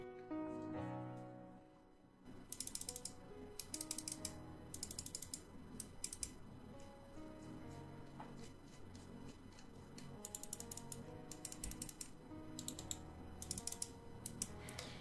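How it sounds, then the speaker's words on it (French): Button clicks of an Xtrfy M4 gaming mouse, sharp close-up clicks coming in rapid clustered bursts separated by pauses, over faint background music and with no talking. "je ne peux pas passer à côté d'un test des bruits de clic"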